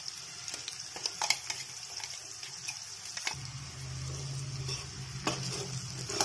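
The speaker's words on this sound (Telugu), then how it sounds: "మనం ముందుగా గ్రైండ్ చేసి పెట్టుకున్న కరివేపాకు పొడిని ఇందులో వేసుకుందాం।" Curry leaf powder and green chillies are stirred in a frying pan for curry leaf rice, with soft scraping spoon strokes over a quiet, gentle sizzle, faint and close.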